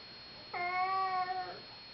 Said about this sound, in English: You were a good kitty.